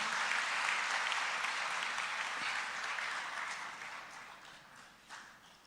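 Applause from the audience at a public event held for a chief minister, a dense burst of clapping that fades gradually over several seconds.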